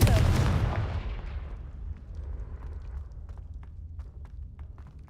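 A fire spell explodes in the video game Hogwarts Legacy, with a loud, close boom at the start that decays into a low rumble and scattered small crackles and debris sounds.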